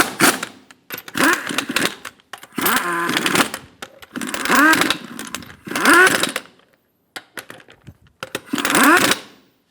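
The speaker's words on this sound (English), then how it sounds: "Install the wheel and get the lug nuts started. Snug down the lug nuts." Lug nuts being snugged down on a Ford Expedition wheel, heard as repeated loud bursts of a power tool, each lasting about half a second to a second and separated by short pauses, close and without talk.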